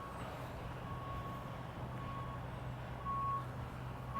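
A construction vehicle reversing on a building site at the Anfield Road stand expansion in Liverpool, its steady repeating reversing beeps sounding at a distance over a low engine rumble.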